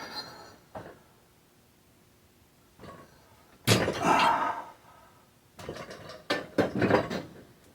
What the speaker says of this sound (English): So I'm flipping the bike around.